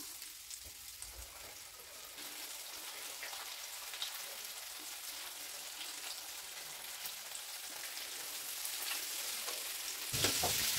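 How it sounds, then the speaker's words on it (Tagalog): Murcon de keso coated in egg and flour fries in boiling oil, a steady crackling sizzle with scattered pops throughout, close and continuous, swelling slightly near the end. "ilalagay na natin siya sa mantika na kumukulo"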